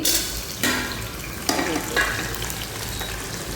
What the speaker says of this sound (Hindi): मैं अभी छौंका तैयार कर रही हूँ। छौंका लगाऊंगी।